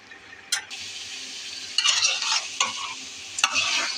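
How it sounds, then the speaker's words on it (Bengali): Bitter gourd (karela) fries in an uncovered pan with a soft, steady sizzle. Several bursts of close spatula stirring and scraping come at irregular moments. "একটু ভাজা ভাজা না হলে করলা ভাজি ভাল লাগে না, এই জন্য একটু ভাজা ভাজি করবো।"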